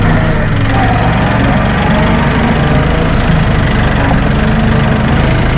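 A Massey Ferguson 1840E hydrostatic compact utility tractor with a 39.4 hp engine idles close by, a steady, loud, low diesel rumble with an even knocking texture that holds unchanged throughout, with no talk over it.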